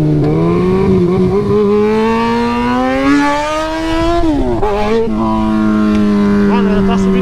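A Yamaha XJ6 motorcycle engine runs loud and close, its steady throbbing note climbing gradually before a brief throttle dip and recovery.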